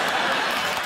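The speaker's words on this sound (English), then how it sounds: "I can't believe people are applauding you" Studio audience applause on a TV talk show, a steady wash of many hands clapping throughout the brief moment, with no break.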